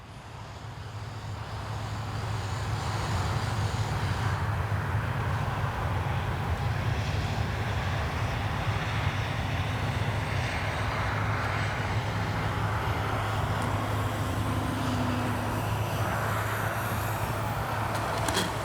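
An FMS Cessna 182 radio-controlled model airplane flies overhead in a headwind, its electric motor a steady droning whine that swells in over the first seconds and then holds, mixed with outdoor wind noise and no talk.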